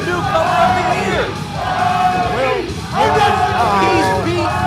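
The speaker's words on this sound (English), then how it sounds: "Listen to this crowd cheering for Bobby Starr." A wrestling crowd at a live indie show cheers and yells in loud, swelling waves, with many voices chanting and whooping close together and an announcer's voice faintly mixed in.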